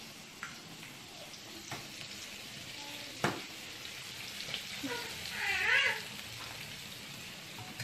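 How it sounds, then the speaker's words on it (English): Chicken fries in a pan with a soft, steady sizzle for school food preparation, fairly quiet throughout, and a cat meows briefly in the middle. "wait for the next round of the chicken frying"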